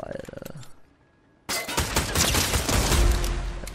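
Assault rifle in Fortnite Ballistic firing a loud, sustained automatic burst after a brief pause, preceded by a short rhythmic rattle of shots; close and dominant with no talk over it.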